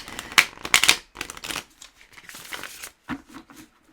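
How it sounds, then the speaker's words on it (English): Tarot cards riffled and shuffled by hand up close, in crisp bursts of papery flicks that trail off into softer sliding and tapping. "So shuffle these in."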